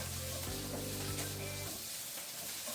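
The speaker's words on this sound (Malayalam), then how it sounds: "ഇതൊന്നോടെ ഒന്ന് ഇളക്കിയിട്ട് ഞാനൊരു പാത്രത്തിലേക്ക് മാറ്റാൻ പോവാം." Shrimp dry fry sizzles softly in a pan while it is stirred. A low steady hiss runs throughout, with a brief humming tone partway through.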